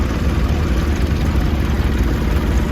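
A Case 2545 tractor engine running during a parade of power at an agricultural show, a loud steady low rumble that holds constant throughout with no clear breaks.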